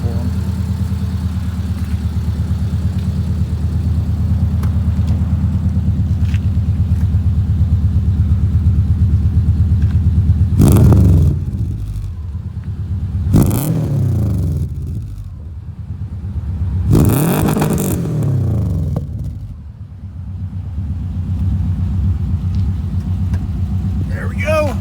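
A Subaru coupe fitted with UEL headers and a full exhaust idles with a deep, steady rumble, then is revved loudly three times in sharp bursts before settling back to idle; close and prominent.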